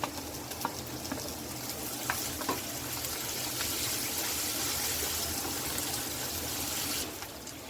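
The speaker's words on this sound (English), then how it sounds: "it's time to add some capsicum cubes and saute them" Onions and capsicum cubes for kadhai paneer sauté in a pan, giving a soft, continuous sizzle with scattered light crackles that fades near the end.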